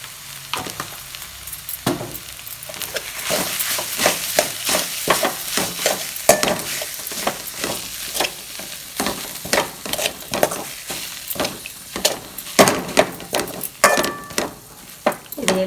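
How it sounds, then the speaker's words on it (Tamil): Potato masala for bonda is mashed and mixed in a pan, giving repeated sharp clinks and scrapes of a spoon against metal over a soft sizzle, irregular in rhythm, with no clear speech. "எல்லாம் நல்லா ஒன்றா மசிச்சுக்கலாம்."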